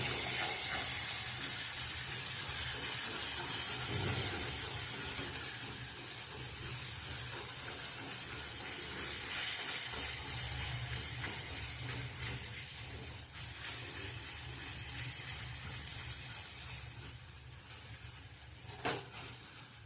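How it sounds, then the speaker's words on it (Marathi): Spice masala frying in hot oil for a village-style egg curry gives a steady, dense sizzle and hiss that runs throughout, close and even, with a faint clatter near the end and no talking. "आता मसाल्याचा कच्चापणा निघून जाईपर्यंत तेलात आधी घालून घ्यायचं आहे"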